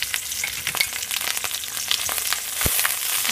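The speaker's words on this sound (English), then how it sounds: "Add our curry leaf to our oil. And add our fennel seed and garam masala to our oil." Curry leaves, fennel seeds and garam masala frying in oil in a skillet over medium heat, giving a steady, close crackling sizzle with sharp pops and one brief louder burst.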